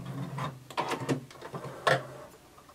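A home sewing machine backstitches on a garment seam, giving short whirring stitch bursts that stop and restart, close and fairly soft.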